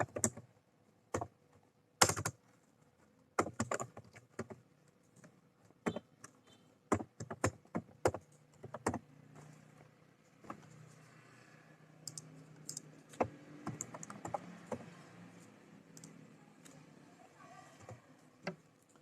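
Typing on a computer keyboard while drafting an internal government document, with irregular bursts of close, crisp key clicks and occasional louder keystrokes over a quiet room.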